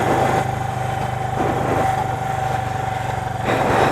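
An old carbureted motorcycle engine while riding through a residential neighborhood: a steady, close droning rumble with a thin constant whine and slight rises and falls in revs, with no talk.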